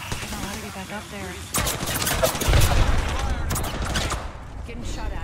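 Rapid bursts of gunfire in an Apex Legends battle royale match erupt after a brief lull and keep rattling loudly, mixed with people talking.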